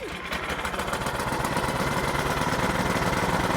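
An Ariens Professional 28-inch snowblower engine catches after a pull start and settles into a steady, rapid mid-pitched chugging, close and continuous.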